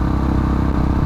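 A KTM RC390 motorcycle rides along a street, its engine giving a short, steady, loud rumble with a dense low throb.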